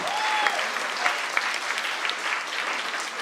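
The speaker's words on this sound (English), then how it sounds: "Clap it up for them, girls." Girls receiving sports awards are cheered by an audience that breaks into steady applause, a dense wash of clapping filling the hall from near to far, with faint voices mixed in.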